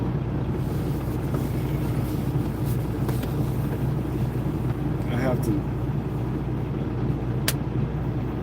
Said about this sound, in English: I'm sitting here in the truck running, it shakes and make that noise